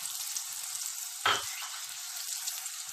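Garlic sizzles in a hot pan, a steady crackling fry, with a sharp burst of hissing spatter as vinegar is poured in partway through, then the frying settles back to an even sizzle.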